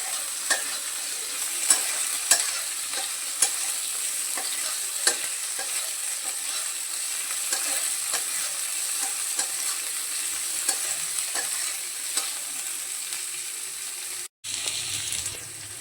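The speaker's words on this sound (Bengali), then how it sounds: "পেঁয়াজ, রসুন আর লঙ্কা যখন হালকা লালচে করে ভাজা হয়ে যাবে" Chopped onion, garlic and slit green chili frying in hot oil in a pan, a steady close sizzle with scattered stirring scrapes and clicks throughout.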